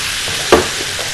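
Two small spoonfuls of vinegar hit a hot frying pan, and a brief, sharp hiss bursts out over a constant, loud sizzle of food frying, then settles back.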